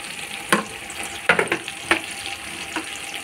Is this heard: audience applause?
no